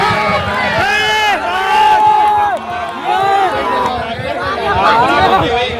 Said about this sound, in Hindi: ये देखिए दर्शक बहुत देर से चिल्लाते हुए और तालियों की बरकत से उनकी हौसला अफजाई करते हुए